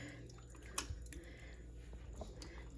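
Canned stewed tomatoes and their juice poured over peppers for stuffed peppers make a faint, soft liquid splash with small drips and a single louder plop, all quiet and close.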